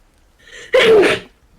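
A single loud, close sneeze from a person during a tabletop game session, a brief inhaled build-up followed by a sharp explosive burst, heard alone without talk.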